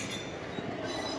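A train at Kanyakumari railway station, a steady broadband rumble with faint wheel squeal and rail noise running continuously through the short stretch, with no talking.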